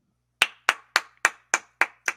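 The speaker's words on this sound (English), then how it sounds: "Let me clap you up, fam." Seven sharp single hand claps in a slow even rhythm, close and clean against near silence.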